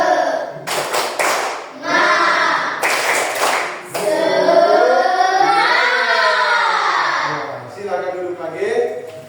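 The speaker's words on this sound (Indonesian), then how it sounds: "Tepuk semangat ya. Tepuk semangat." A class doing the tepuk semangat spirit clap, with sharp bursts of group clapping in a rhythmic pattern, followed by voices chanting together loudly.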